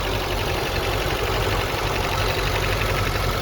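A one-owner 1981 BMW 320i with a four-cylinder engine and five-speed idles steadily close by, a constant low rumble with no other sounds.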